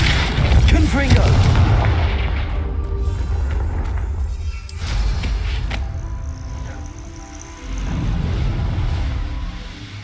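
A Confringo fire spell explodes in Hogwarts Legacy, a heavy booming blast with a deep rumbling tail, followed by more rolling rumbles and a second swelling burst near the end, while a voice speaks over it.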